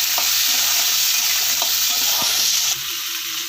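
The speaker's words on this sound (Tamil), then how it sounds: "வெங்காயம் ஒரு பூண்டும் இஞ்சி நல்லா வதக்கிடணும்" Onion, garlic and ginger sautéing in a pan for mutton curry, a steady loud sizzle with a few stirring scrapes and clicks throughout, easing slightly near the end.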